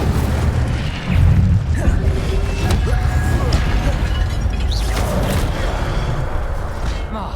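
Incendio fire spell cast in the Hogwarts Legacy video game, a burst of fiery whoosh and booming impact followed by crackling magical effects and rumbling game sounds, mixed with other spell blasts and a voice speaking.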